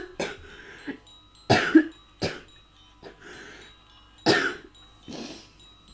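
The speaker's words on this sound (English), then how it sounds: "Audio warning, I'm gonna cough." Several sharp, close coughs in irregular bursts, some doubled, with brief pauses between them and no talking.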